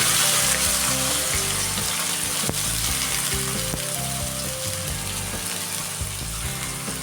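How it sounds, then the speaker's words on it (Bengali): Sliced onions sizzling and frying steadily in a pan for a Bengali badshahi chicken dish, a continuous close crackle with light stirring and a faint watery undertone, no voices. "এবার পেঁয়াজটাকে আমি হালকা করে ভেজে নিচ্ছি।"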